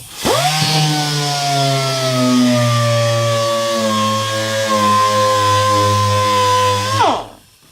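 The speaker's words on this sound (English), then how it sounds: "I'm using some 400 grit DA sander, wet." A DA sander with 400 grit paper wet-sands car paint, a loud close whirring motor whine that spins up sharply, holds a steady pitched drone for several seconds, then winds down abruptly.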